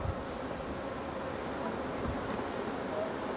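Honeybees buzz in an open hive during an inspection of frames backfilled with honey and nectar, a dense, steady, close drone that fills the whole stretch without any voices.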